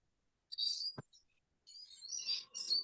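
Birds singing outdoors, with high bright chirps and warbling phrases in two bursts separated by a short pause, fairly close and clear with no voices over them.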